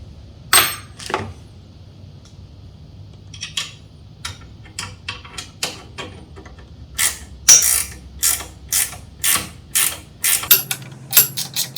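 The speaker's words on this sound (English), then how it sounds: "you're going to be using, I think it's a T30 Allen wrench out of the kit here" An Allen wrench turns bolts while legs are fitted to a Harvey table saw, giving sharp, close metallic clicks and ratcheting taps that come in irregular bursts and then a quicker run of repeated clicks.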